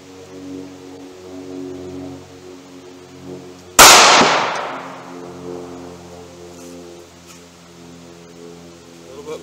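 .45 ACP round fired into a wooden 2x4: a single sharp, loud gunshot crack partway through, with a short decaying tail over a quiet outdoor hum before and after.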